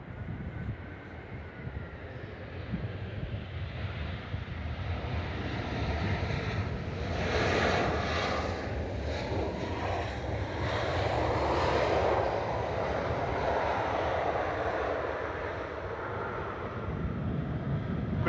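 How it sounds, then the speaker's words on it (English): A Lufthansa Airbus A320 Classic touches down at Manchester Airport on arrival from Munich, its engines roaring and swelling in a broad, continuous rumble with wind buffeting the microphone throughout. "Lufty just touching down here from Munich."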